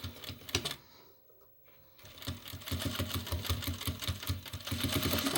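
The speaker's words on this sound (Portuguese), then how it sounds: "A sua máquina, ela vai manter um ponto bem legal se você for constante na costura." A sewing machine stitches fabric while a necessaire (toiletry bag) is being sewn. The steady, rhythmic mechanical whirring sounds close and loud, stops briefly near the start, then runs continuously at an even pace.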